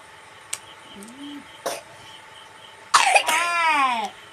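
Coughing from a person with a cold on a rainy day, a few short separate coughs early on and then a louder, longer coughing fit near the end, close to the listener.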